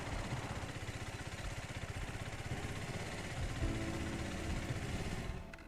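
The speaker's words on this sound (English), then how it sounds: "We're gonna go and try out our new tractor." Tractor engine idling in the Farming Simulator 25 video game, a steady low mechanical rumble running throughout, swelling slightly near the end before easing off.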